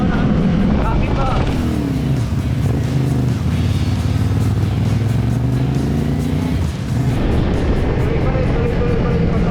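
A motorcycle engine roars close by, its pitch climbing and dropping as the rider shifts through the gears, with a voice talking over the steady engine noise.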